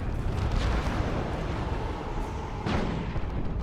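Mega Rumbler artillery in a 3v3 Dawn of War 2 match: a dense, continuous low rumble with heavy booming impacts, one near the start and a louder one near the end, loud and close throughout.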